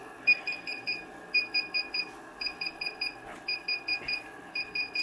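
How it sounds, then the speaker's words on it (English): A DJI Inspire 1 remote controller beeps during a firmware update, sounding repeated groups of four short, clear electronic tones in a steady rhythm, close and moderately quiet over faint background hiss. "the controller's gonna beep and the light's gonna change"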